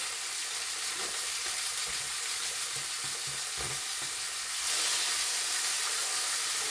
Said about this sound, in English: So I like to get these fried up a little bit.